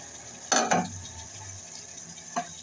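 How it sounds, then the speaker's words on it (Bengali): A utensil stirs potatoes and dried fish in a cooking pot, giving two quick scraping knocks close up followed by a softer third, over a faint steady sizzle. "এখন এটাকে নেড়ে চেড়ে মিশিয়ে নিচ্ছি।"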